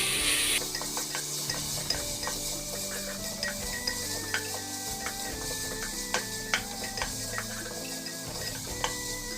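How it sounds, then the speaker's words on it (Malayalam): Crushed ginger and garlic frying in a pan for beef roast, with a steady sizzle and repeated light scrapes and clicks of a spoon stirring throughout. "ഇഞ്ചി വെളുത്തുള്ളി ചതച്ചത്, പച്ചച്ചവ മാറുന്നത് വരെ ഒന്ന് മിക്സ് ചെയ്ത് കൊടുക്കുക."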